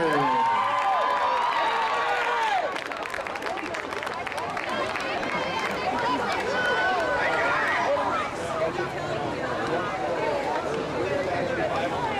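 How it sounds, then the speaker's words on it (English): An audience applauds and cheers for swimmers after the girls' 100 backstroke at a league swimming final, a steady loud wash of clapping and crowd noise, with an announcer speaking over it. "A round of applause for your ladies in the 100 backstroke."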